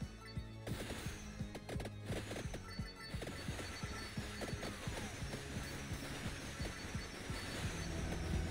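A train rumbles past steadily with rhythmic wheel clatter and some metallic squeal, loud and continuous throughout, heard amid a Vampire Survivors PC game session.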